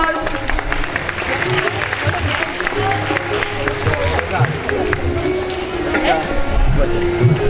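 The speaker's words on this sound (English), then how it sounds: "A big round of applause." A school audience applauds kindergarten children carrying a good-luck plant at an Independence Day celebration; steady, dense clapping mixed with crowd murmur and voices runs throughout.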